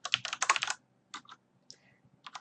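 Bursts of computer keyboard typing while code is entered in a project: quick clusters of key clicks separated by short pauses, close and clear, with no voice.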